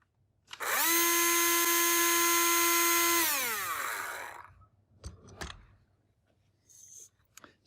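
A Makita DUR193 cordless grass trimmer motor spins up sharply, holds a steady high whine for a few seconds, then winds down, followed by a few faint clicks and handling knocks.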